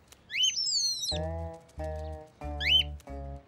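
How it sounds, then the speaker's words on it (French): Cartoon character in a French children's animated series whistling, two quick high sliding whistled phrases, each followed by lower humming, tonal sounds, clear and close. "Poc, tu nous embrouilles quand tu siffles."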